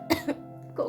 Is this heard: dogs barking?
no